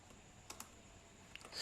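Light typing on a computer keyboard, a few soft scattered key clicks close by in a quiet room.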